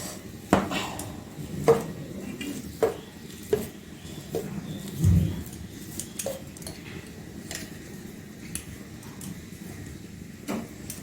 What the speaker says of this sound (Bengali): প্রথমে আমি একটা আলুটাকে ম্যাচ করে নিচ্ছি।